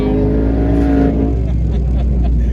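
A twin-turbo Hellion Mustang revs hard and accelerates on the street, roaring loud and close before the pitch shifts as it pulls away.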